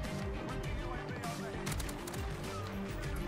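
Hip-fired bursts from the M13 rifle in Call of Duty Modern Warfare rattle through a busy game mix, rapid shots running the whole stretch over dense background game sound.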